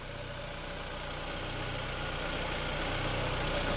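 A 2004 Ford Focus petrol engine idling with a steady, even hum, close and continuous, with no voices over it.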